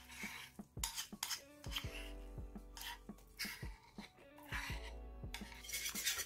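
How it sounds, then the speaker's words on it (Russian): A spoon scrapes and knocks around a bowl while thick yeast dough is stirred, with irregular clinks and rubbing sounds close by. "Перемешиваем."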